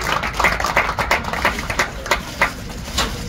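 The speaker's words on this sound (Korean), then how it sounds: "네, 박수하겠습니다." At an outdoor joint worship service, a small audience claps in loose, distinct bursts of hand claps, fairly close and uneven in rhythm, with no talking.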